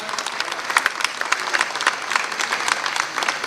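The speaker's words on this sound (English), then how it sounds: "Can we give the round of applause, ladies and gentlemen?" Audience applause fills the space after a request at a news event, with steady dense clapping at close-to-moderate distance that runs the whole time with no voices over it.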